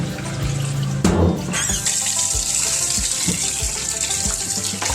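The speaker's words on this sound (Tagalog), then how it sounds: "Hugasan muna natin mga madam yung buto-buto." Pork ribs being washed under a running kitchen tap, a steady loud rush of water with splashing and shifting as the meat is handled beneath the stream.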